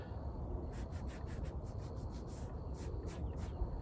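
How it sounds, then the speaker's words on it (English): Paint thinner rubbed by hand onto a rubber motorcycle windshield guard, a soft continuous scrubbing with quick repeated strokes, quiet and close, no talking. "rub some paint thinner into it"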